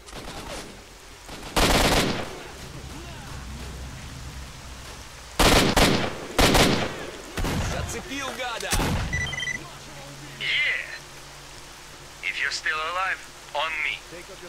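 Gunfire in the shooter game S.T.A.L.K.E.R. - Shadow of Chernobyl: several loud bursts of rapid shots separated by quieter stretches, with a person talking in between.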